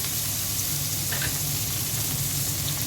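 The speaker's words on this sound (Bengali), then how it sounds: "পেঁয়াজ আর টমেটোটা ভেজে নিলাম।" Onion and tomato frying in a pan, an even close sizzle and hiss holding steady throughout the short stretch.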